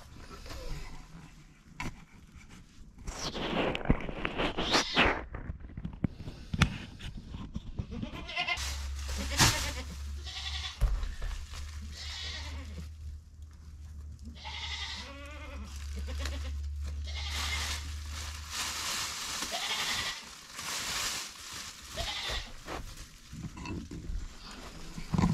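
Goats in a homestead goat barn bleating in distress, repeated loud, wavering cries from several animals overlapping for the whole stretch, with a low rumble running beneath part of it.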